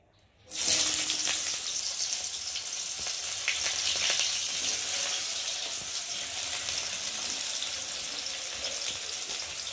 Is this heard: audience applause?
no